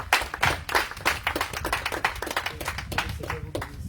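A church congregation applauds together, a dense burst of many hands clapping steadily and close for several seconds, with faint voices mixed in.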